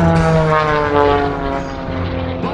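Team Oracle aerobatic propeller plane at an airshow, a loud droning engine with a rising and falling pitch as it turns around nearby, fading slightly toward the end.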